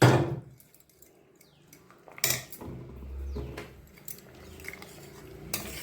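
Metal clatter of cooking in a pot as fried eggplant pieces go into a fish curry with boiled potatoes, with sharp clinks of utensils against the pot, scattered knocks and a brief low sizzle, fairly close and unaccompanied by talk.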